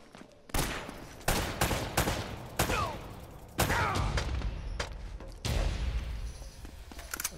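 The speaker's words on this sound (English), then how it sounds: "They're shooting at you too" Bursts of gunfire from the video game Uncharted: Drake's Fortune, several separate volleys of shots with crashing impacts, loud and close, with no talking.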